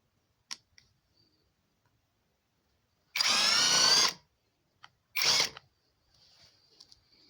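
A REVOLT TW 20/350 cordless impact wrench loosens a fastener in two short, close, buzzing bursts of about a second each, with a few faint clicks in an otherwise quiet room.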